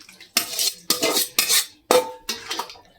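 A spoon stirs Tamil-style pickle in a bowl, producing five distinct bursts of scraping and clinking metal against the dish, close and fairly loud with short pauses between.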